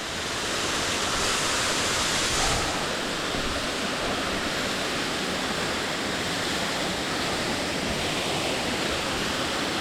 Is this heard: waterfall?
yes